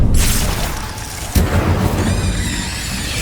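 A fire spell cast in the Hogwarts Legacy video game erupts as a loud whooshing boom with a sharp burst partway through, followed by crackling and rising ringing tones.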